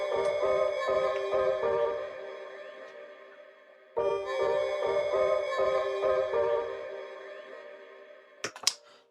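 Layered piano presets in FL Studio, an Anna Juiced Piano patch stacked with other piano sounds, play sustained chords with rhythmic low hits, pausing briefly near four seconds, then resuming and fading into a few clicks at the end.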